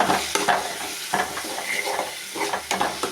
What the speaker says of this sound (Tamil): இந்த அளவுக்கு நல்லா வதக்கிட்டு